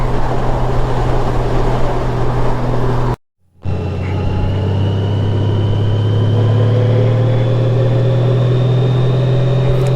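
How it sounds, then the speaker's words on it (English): A 2018 Honda Goldwing motorcycle pulling hard in sport mode, a steady loud engine drone broken by a short gap before the rising tone resumes and climbs as revs build. "We'll rev it out as far as we can."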